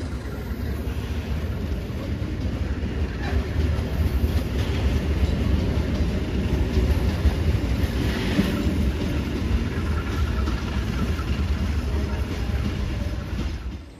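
Gajayana train standing at a station platform, a continuous low rumbling hum of the trainset with faint clattering and hissing over it, steady throughout without clear voices.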